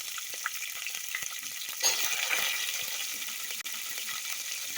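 Onions and cashews frying in a pan for green pea kuska rice, a steady crackling sizzle that swells louder around the middle as the onions go in, with faint stirring scrapes and no talking.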